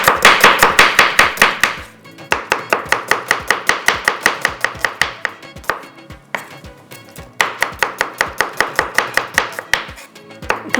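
Onions being chopped on a board with a knife, a fast, steady run of crisp close taps in bursts with short pauses between them, no voices.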